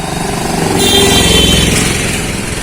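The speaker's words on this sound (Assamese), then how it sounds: "চাৰিচকীয়া বাহন তিনিচকীয়া বাহন বাইক চাইকেল সকলো এইফালে দি আহে" A motorcycle on a village road, its engine droning loud and close as it passes, a steady rumbling putter with no talk.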